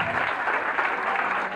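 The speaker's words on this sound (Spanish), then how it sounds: "¿Quién más tengo de reyes, reinas? ¡Un aplauso!" An audience at a king and queen gala in Albelda de Iregua gives a short burst of steady, dense applause with no speech on top.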